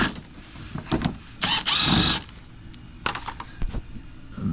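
A power tool removes 10mm bolts from underneath a 2023 Toyota Prius, giving short whirring bursts with one longer run in between, close and fairly loud, no voices.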